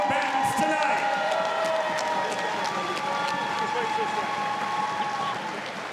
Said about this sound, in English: another round of applause for these two championship combatants tonight